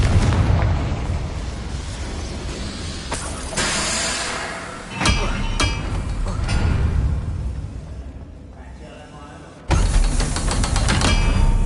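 The Confringo fire spell explodes in Hogwarts Legacy, a loud burst followed by rumbling, sharp crackles and a few more booming hits amid game effects.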